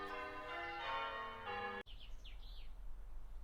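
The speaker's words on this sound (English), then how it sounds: "I'm kind of done with the church bells thing." Church bells ring loudly in a dense, sustained peal, then stop abruptly; after the cutoff, several faint bird chirps continue over quiet room tone.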